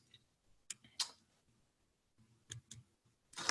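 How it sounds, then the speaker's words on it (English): Sparse sharp clicks from buttons being pressed, single and paired taps with quiet gaps between them, close and fairly faint, with no talk. "I'm clicking buttons and nothing's happening."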